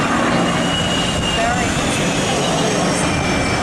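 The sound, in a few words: Rolls-Royce Merlin engine of Mustang fighter aircraft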